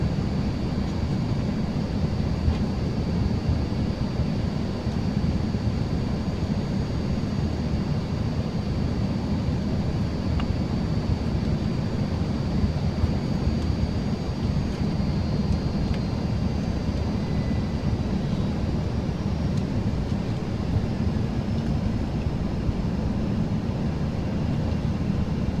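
Steady broadband drone of a fixed-wing airliner cabin during descent toward Kentucky, a constant low rumbling roar with a faint high whine, continuous and unchanging for the whole stretch, with no talk.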